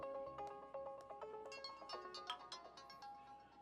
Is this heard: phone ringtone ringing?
yes